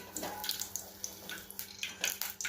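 Running tap water splashes over black peppercorns, cloves and lemon being rinsed for a lemon pickle, a steady faint wash with scattered brighter splashes and no talk.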